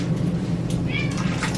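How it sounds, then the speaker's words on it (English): A cat meows in a home kitchen, a short, moderately loud call that rises over steady background hum and low room noise, with no talking. "What are you doing in my kitchen, Cat?"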